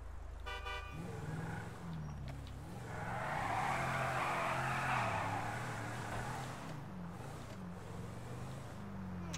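A car in the video game GTA V drives with a steady engine drone, swelling into a broad tire-skid hiss midway before settling back, with a brief horn-like tone at the start.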